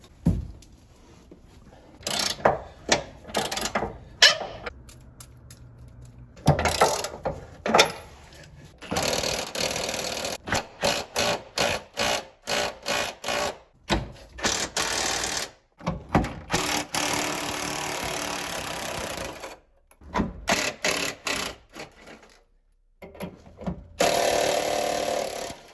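On a Corvette C5, the 21 mm rear subframe bolts are loosened in a series of short, sharp mechanical bursts separated by gaps, clattering and buzzing close by.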